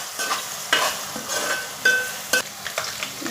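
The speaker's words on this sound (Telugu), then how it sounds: "ఇప్పుడైతే మనం ఈ ఉల్లిపాయలు అనేవి కొంచెం గోల్డెన్ కలర్ వచ్చే వరకు ఫ్రై చేసుకోవాలండి." Sliced onions frying in oil until golden for a crab curry, a soft sizzle broken by irregular stirring scrapes and a few sharp clinks of a spoon on the pan, with no talk.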